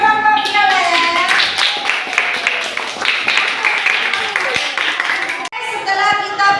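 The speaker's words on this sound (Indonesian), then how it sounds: "tepuk tangan untuk kelompok violet" A group claps together in a lively burst of applause, steady and close, with children's voices mixed in.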